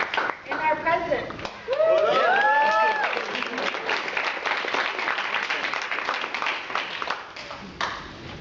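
Audience clapping at an end-of-semester meeting, a steady crowd applause that runs under a voice speaking at the start, then continues loud and dense before tapering near the end.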